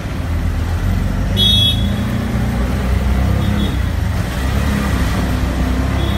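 An auto rickshaw (tuk-tuk) putters through Mumbai traffic in India, a steady rumbling engine with road noise and a brief horn toot in the background, with no talk.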